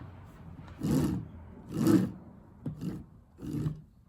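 An electric motor, likely from an electric skateboard, grinds out rough, growling bursts, four of them roughly a second apart, each rising and fading with a harsh, raspy edge.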